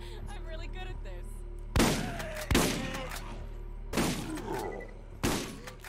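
Gunfire in Borderlands, four loud, punchy shots spaced about a second apart, each with a ringing tail, over a steady low game hum.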